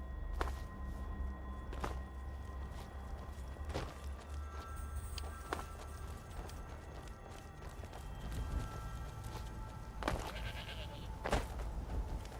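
Goats bleating in the Skyrim video game, with a few short bleats scattered among sharp clicks and footstep-like taps over a low background drone.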